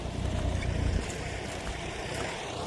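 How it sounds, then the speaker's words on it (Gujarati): A tractor working in a farm field: a continuous low, rumbling engine drone heard from a distance, blended with wind buffeting the microphone. "અહીંયા ટ્રેક્ટરનું ચાલુ છે કામકાજ"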